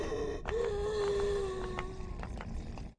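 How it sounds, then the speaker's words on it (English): Creeping corruption spreading across the map in the video game Rise to Ruins, a continuous eerie drone with a wavering low tone and scattered soft crackles, steady and loud before cutting off abruptly. "Now the corruption starts as far away from you as possible at the other end of the map and starts creeping towards you, and it sounds like this."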